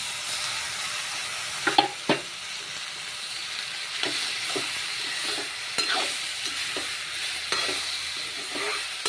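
Boiled, drained noodles stir-fried in a pan for vegetable noodle soup, giving a steady close sizzle with repeated scraping stir strokes and clinks throughout, no talking.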